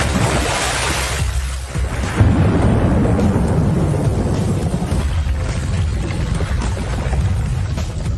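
Heavy rain pours steadily and loudly throughout, with rumbling thunder rolling underneath it.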